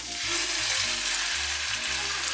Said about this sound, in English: what I'm going to do is lay off the tuna straight into the pan